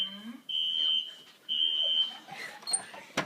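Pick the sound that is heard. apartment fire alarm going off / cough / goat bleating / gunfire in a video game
apartment fire alarm going off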